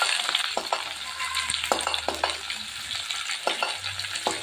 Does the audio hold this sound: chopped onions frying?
yes